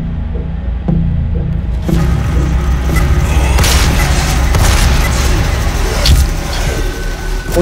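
Deep booming blasts and rumbling bursts build up and roll on continuously, heavy and loud, like explosions in the video game DOOM 4.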